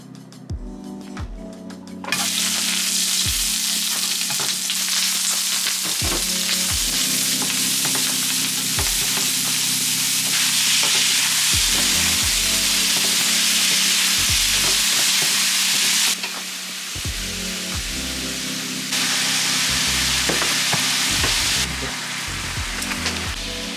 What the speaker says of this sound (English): We're gonna make a simple saute.